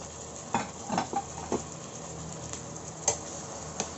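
Onion paste being stirred into chopped onion and fried in a pan for soyabean bharta, a soft, steady sizzle broken by scattered taps and scrapes of stirring, with no talking.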